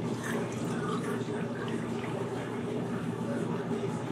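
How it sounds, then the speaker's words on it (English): Water poured into the top reservoir of a portable travel espresso maker, filled until it overflows, makes a steady, close trickle and splash that runs continuously with no pauses. "And you want to add water to the top"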